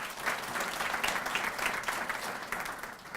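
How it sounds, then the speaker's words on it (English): An audience at a school district signing day event applauds a student athlete, producing sustained, even clapping from a moderately distant crowd that holds steady throughout. "Applaud for Charles."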